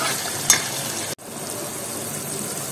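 A spice masala roasts in a pan for khandwi curry, giving a steady close sizzling hiss with a brief stir or clatter near the start and a momentary cut before the frying continues evenly.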